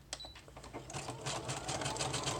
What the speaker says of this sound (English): I'm going to go ahead and sew all the way along here and there.